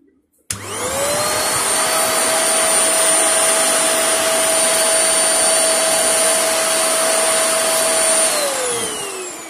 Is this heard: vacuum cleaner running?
yes